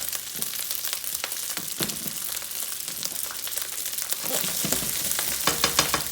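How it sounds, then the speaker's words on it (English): Rice frying in hot oil in a pan, a continuous close sizzle with crackling pops and scraping stirs that grow busier toward the end, no voices. "that oil is frying the rice, thus the name fried rice"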